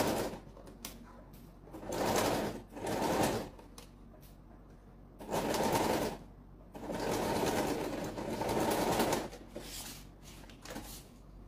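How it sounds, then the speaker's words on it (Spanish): A sewing machine stitches a folding pouch in bursts of about a second each, with quieter gaps between runs, near and moderately loud, with no talking. "cosemos un lado, cosemos el otro"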